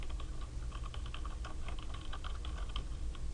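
Rapid clicking of typing on a computer keyboard while entering text into a spreadsheet cell, steady and close throughout with no voices.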